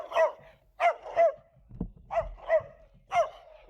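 A dog barks in repeated bursts on a cycling route through the Basque Country countryside, with about six loud, fairly near barks in uneven pairs and singles, and a faint low rumble in the gaps.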